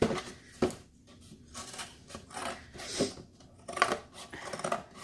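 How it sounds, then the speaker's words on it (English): Scissors cutting through journal cover material in several separate snips and crunches, close and fairly quiet with brief pauses between cuts. "I'm just gonna cut this"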